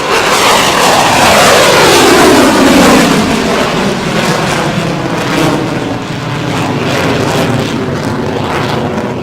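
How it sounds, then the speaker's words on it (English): Roaring jet noise from an F-22 Raptor fighter in the IFAE Global Air Force flight sim, loud and sustained with a sweeping whoosh as it passes, then a steady rumble fading slightly. "I'll add in some Raptor sounds"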